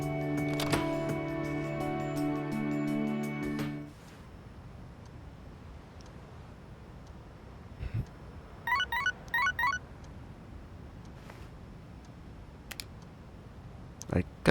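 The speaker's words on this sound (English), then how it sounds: "I got a text message." Text message notification tone on a phone in the video game Persona 3 Reload, a bright tonal chime lasting several seconds, followed by quiet with a few faint clicks and short chirps.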